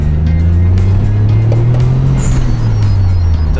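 A 1991 Mitsubishi 3000GT VR4 twin turbo with about 148,000 miles accelerating hard, a loud, continuous engine drone rising in pitch from inside the car.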